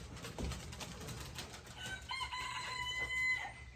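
A rooster crows at a distance in a farmyard, the faint call rising over a low background of patter that may be rain, then trailing off.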